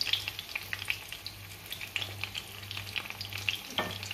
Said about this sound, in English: Gonna fry those for a few minutes.